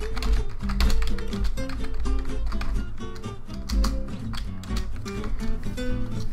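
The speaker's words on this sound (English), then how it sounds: "I can't see what I'm typing" Computer keyboard typing while adding a caption in Windows Movie Maker editing software, a steady run of quick clicking keystrokes at moderate loudness throughout, with no talking.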